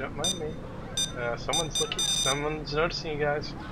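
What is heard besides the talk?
alarm going off in video game Payday 2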